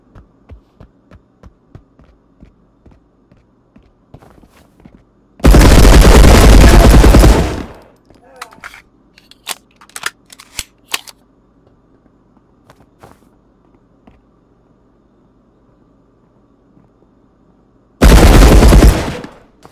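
Gunfire in the video game Marauders, with two long, loud sustained bursts of automatic fire separated by scattered sharp clicks and shots over a low hum.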